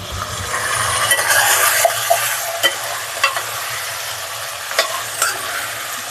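Eggplant is stirred into cooking mutton dalcha in a pot, giving a steady sizzle and bubbling with scraping clicks of the spoon against the pan at irregular intervals, close and fairly loud.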